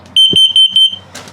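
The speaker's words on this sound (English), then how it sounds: "So it's a carbon monoxide detector, LP gas detector, and a low battery alarm." Carbon monoxide and LP gas detector in a 2022 No Boundaries NO-BO 16.6 camper, sounding a rapid series of about eight piercing, high, close electronic beeps, followed by a short rustle.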